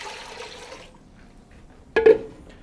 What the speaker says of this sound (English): I'm going to take 2 quarts of warm tap water and I'm just going to pour it right into